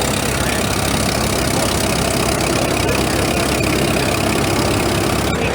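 A 1956 Allis-Chalmers Model WD tractor rated at 31 horsepower runs in an old engine show parade, its engine a loud, dense, steady rumble throughout with no clear changes in pace.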